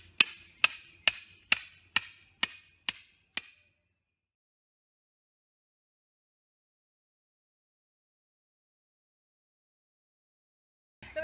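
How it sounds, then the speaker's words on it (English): A hammer strikes a recycled rebar stake being tamped into a streambank, eight sharp ringing metallic blows in a steady rhythm, close and loud, then silence. "here's my recycled rebar, and we're simply going to just place it and start to tamp it in"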